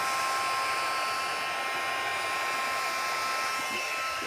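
A heat embossing tool blows a steady, even hiss of hot air onto embossing powder on vellum, held close and continuous throughout.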